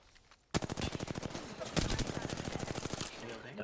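Rapid automatic gunfire in a video game rattles out in a dense, loud, continuous burst of about three seconds after a brief quiet start, with a voice speaking briefly.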